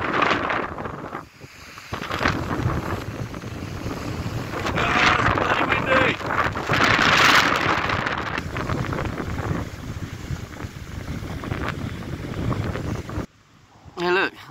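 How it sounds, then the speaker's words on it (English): Strong wind buffets the microphone at the top of a pier at Landguard Point, a loud continuous roaring rush with gusts swelling and fading, briefly dropping near the end. "And it's bloody windy."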